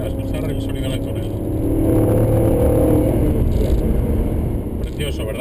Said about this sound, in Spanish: es el sonido del motor V8 que monta este Maserati Gran Turismo Sport con 460 caballos